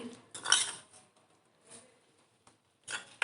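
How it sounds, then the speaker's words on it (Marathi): A spoon clinks and scrapes against a dish while poha is mixed with milk and sugar, with bursts of metallic clatter at the start and end and softer stirring between them. "आणि हे सगळं व्यवस्थित असं मिक्स करून घ्यायचं आहे"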